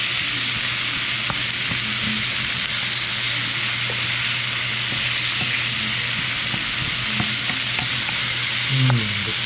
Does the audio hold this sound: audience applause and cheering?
no